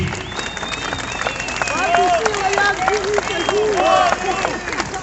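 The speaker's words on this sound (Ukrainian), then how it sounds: "Попросіть його оплесками з цього майдану" A rally crowd on a town square in Mukachevo, gathered in support of European integration, applauds and cheers outdoors, a broad mass of clapping under shouting voices and whistles, swelling and dipping in loudness.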